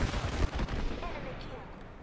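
Gunfire from a battle in the video game Apex Legends bursts loud and close, a rapid volley of shots at the start that fades into a softer tail, with a voice talking over it.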